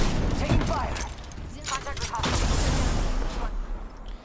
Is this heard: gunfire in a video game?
yes